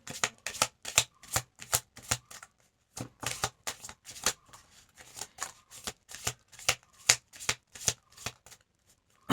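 Tarot cards are shuffled by hand in quick, close, crisp riffling bursts, repeated in a steady rhythm with short pauses between them.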